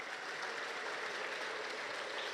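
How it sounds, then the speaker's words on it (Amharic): A Protestant church congregation applauds: dense, even clapping from many hands, heard as a steady, fairly quiet wash with no break. "እስኪ ለእግዚአብሔር ክብር እልልታና ጭብጨባ እናቀርባለን።"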